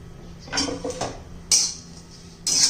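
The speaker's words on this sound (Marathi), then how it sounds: "आता मिरच्या घालायच्या आहेत आणि तेल न घालता आपण हे मस्त अशा भाजून घेणार आहोत." Green chillies dry-roasting in a pan without oil: soft scraping in the first half, then two bright, hissing rattles a second apart as the chillies are tossed around the hot pan.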